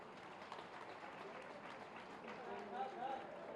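A crowd applauds at a house-key handover ceremony in a police lines ground in Moradabad, the clapping steady and dense for a few seconds at moderate distance, with a voice briefly audible near the end.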